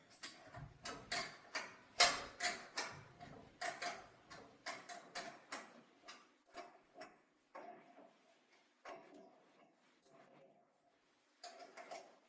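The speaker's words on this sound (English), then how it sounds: "Let me unscrew this bolt here, where I'll attach this part." Rapid metallic clicks and ratcheting ticks from a size 10 wrench loosening a bolt while installing a garage door, coming in quick bursts close to the mic, then thinning into sparser, softer clicks.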